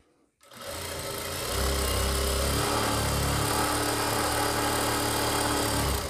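A sewing machine stitching a churidar pajami starts up after a moment of quiet and runs in a continuous, loud whir, speeding up partway through and holding a steady rapid motor drone to the end.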